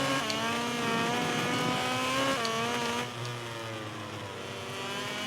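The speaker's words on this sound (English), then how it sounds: "It's just so comfortable riding this bike, this KTM." A KTM MotoGP bike engine in the MotoGP 18 video game revs at a high, steady pitch while riding, with a brief gear shift and a drop in revs partway through. The sound is loud and continuous, with no talking.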